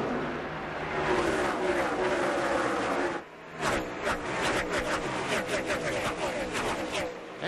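NASCAR Busch Series race cars roar off at the start of the 2004 Stacker 2 Hundred, a dense engine drone breaking into a string of loud cars passing close by under a commentator's voice.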